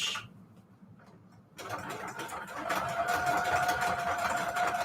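A sewing machine set to its longest, widest stitch starts up and runs steadily, stitching fabric onto manila tags, close and moderately loud after a brief quiet moment.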